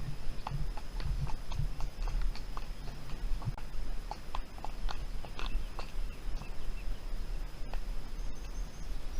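Horses' hooves clip-clop steadily on a trail ride, a continuous rhythmic run of hoof strikes heard close and fairly loud over a constant outdoor rumble, with no talking.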